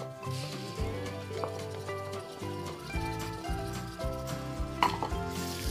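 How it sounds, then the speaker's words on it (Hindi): Garlic and ginger paste frying in a cup of oil for an arvi masala dish, with a steady sizzle under continuous clattering of a spoon or pan throughout. "इसको हमने फ्राई करना है लहसुन अदरक के पेस्ट को"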